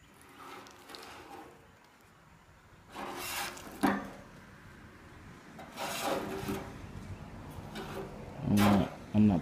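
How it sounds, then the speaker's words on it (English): A hand scraper strips paint off the body of a 1970 VW Beetle in several separate rasping strokes, fairly faint and close, with quiet gaps between passes and a couple of louder scrapes at the end. "So I got a scraper here, and as you can see, it just comes right off."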